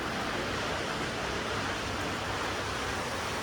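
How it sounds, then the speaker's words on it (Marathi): Steady rain falling through a monsoon shower, a dense, even hiss with no voices. "पाऊस पहा तसा पावसाळा आहे"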